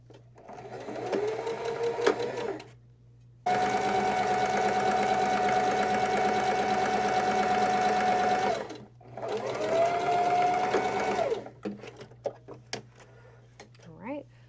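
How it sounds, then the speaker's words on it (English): A sewing machine stitches a Kindle book sleeve in three close, loud runs with a steady motor whine and rapid needle clatter, separated by short pauses, then fabric is handled briefly. A person speaks faintly in the background. "If your sewing machine allows you to change your stitch length."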